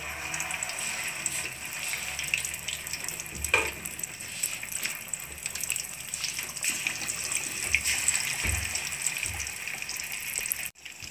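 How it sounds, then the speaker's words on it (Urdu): Marinated rahu fish frying in hot oil for a spicy Lahori fish fry, a steady loud sizzle and crackle with a few sharper pops throughout. "جی فرینڈ فش فرائی ہو رہی ہے"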